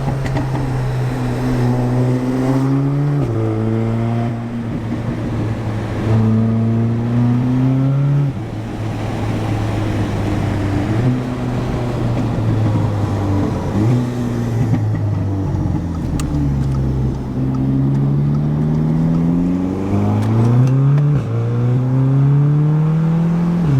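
A 400 hp Audi S3 accelerates hard through repeated gear changes, its engine note climbing in pitch and dropping at each shift. It passes by at moderate distance over roughly twenty-four seconds with no voices.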